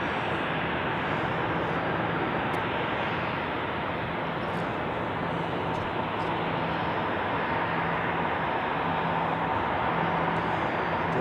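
Airliner taxiing at Zurich Airport on a winter day, a steady distant jet engine roar holding level throughout with a faint low hum beneath.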